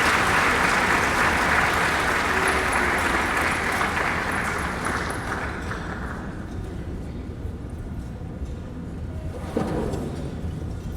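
Dinner guests at a client appreciation dinner applaud the senator, loud dense clapping at first that gradually thins and fades to scattered claps and room murmur.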